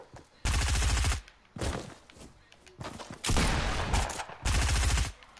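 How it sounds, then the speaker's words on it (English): Gunfire in the video game Fortnite, several loud bursts of rapid shots separated by short quieter gaps, close and punchy, with faint game noise between volleys. "Why is he shooting me?"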